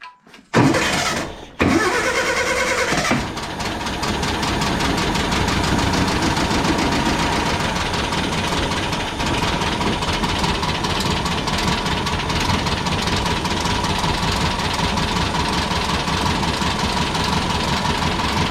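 An air-cooled Volkswagen engine cranks briefly, stalls, then catches on a second try and settles into a steady, loud rumbling idle with a slight ticking rhythm.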